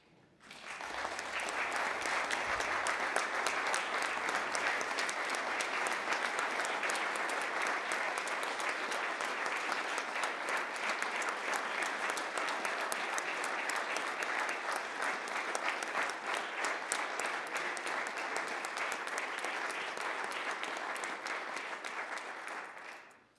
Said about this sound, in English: I think we owe them a great round of applause.